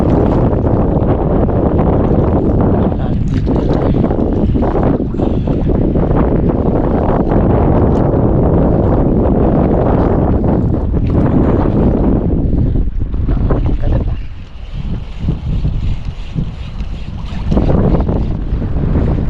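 Strong wind roars across the microphone on a small fishing boat at sea, a loud continuous buffeting that eases slightly near the end, with water sloshing underneath.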